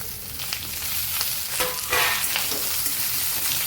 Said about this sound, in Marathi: कांद्यासोबत टोमॅटो सुद्धा छान भाजून